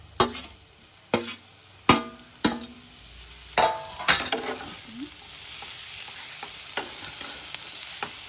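Clams with red chili powder and spices are stirred in a pan: a series of sharp, close shell-and-spoon clacks and scrapes at irregular intervals, softening over time over a quiet background sizzle.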